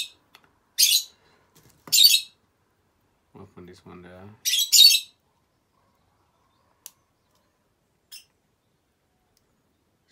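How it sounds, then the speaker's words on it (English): Pet lovebirds give a few sharp, high chirps and squawks in short clusters with silence between, close by, while a person speaks briefly in the middle. "two of my love bird. If I'm talking now, they thought I'm talking to them, but then, and then they start chipping, chipping, chipping"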